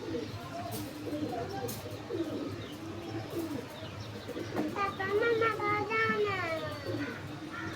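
Domestic pigeons coo and warble nearby on a coop roof while children's voices and chatter carry on in the background.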